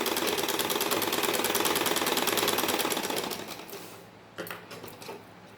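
A sewing machine runs a straight stitch along a salwar hem, a fast, even, close mechanical clatter for about three seconds, then slows and stops, followed by a few light handling knocks.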